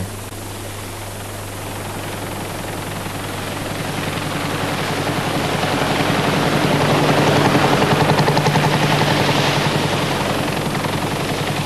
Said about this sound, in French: ce sont des avions qui traquent les saumons pour que rien n'échappe au filet des pêcheurs